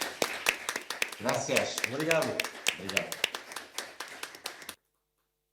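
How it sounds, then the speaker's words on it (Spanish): A small audience claps at a parliamentary alliance event, scattered fairly close handclaps of uneven rhythm over spoken thanks, breaking off abruptly before the end. "un aplauso en nombre de todos los que estamos aquí"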